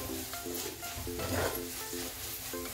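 Chopped ridge gourd being sautéed in a pan for a paratha filling, a soft steady sizzle with light stirring scrapes and faint tonal beeps in the background, quiet and without talk.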